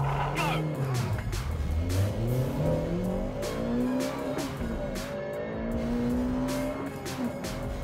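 Hot hatch car accelerating hard around a race track lap, its engine note rising and falling through gear changes with some tire squeal, loud and close throughout while a person talks over it.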